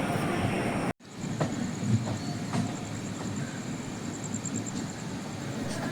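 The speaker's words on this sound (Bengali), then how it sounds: "আর এই হচ্ছে রাতের মালদা টাউন স্টেশন।" A train stands at Malda Town railway station at night, a steady broad rumble with faint clanks. It cuts out for a moment, then resumes at the same level.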